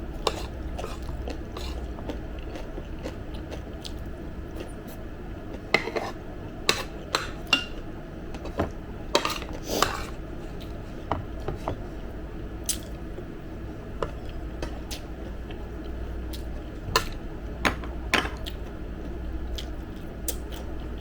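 Close-up kitchen clatter and sizzle, with utensils scraping and tapping against a pan over a steady frying hiss, irregular clinks scattered throughout.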